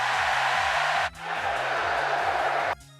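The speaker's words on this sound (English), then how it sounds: "Crowd FX" A crowd sound-effect sample from an electronic music sample pack: a dense roar of cheering voices over a pulsing bass beat, cut off abruptly, resuming briefly, then ending sharply.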